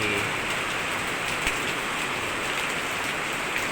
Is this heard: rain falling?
yes